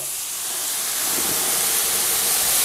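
Tomato liquid hits hot frying rice in a pan, setting off a loud, steady broadband sizzle that swells slightly and holds without pause; no voices.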